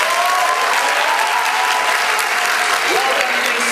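A big, dense round of applause fills a theatre in Dubai during a hypnosis stage show, loud and continuous throughout, with faint voices and cheers mixed in.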